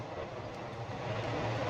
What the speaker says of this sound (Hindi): और ये तो लोकल ट्रेन है, बहुत सारी जगहों पर रुकेगी